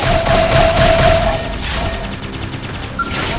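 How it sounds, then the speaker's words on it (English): A Beam barrage attack in the game Xenoblade Chronicles X: a loud sustained burst of rapid blasts and impacts forming one dense barrage, with a high electronic tone sounding through it. "Beam barrage!"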